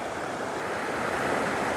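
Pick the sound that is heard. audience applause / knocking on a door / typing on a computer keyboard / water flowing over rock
water flowing over rock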